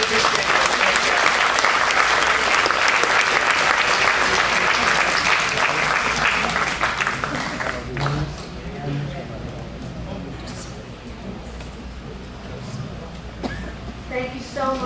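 Audience at a Democratic club monthly program applauds heavily for about eight seconds, then the clapping thins out and fades as voices and room sounds take over.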